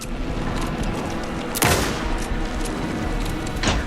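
Gunfire in the video game Alan Wake 2 during a tense fight: a loud sharp burst near the middle and a second, lighter shot near the end, over a steady dense background of game noise.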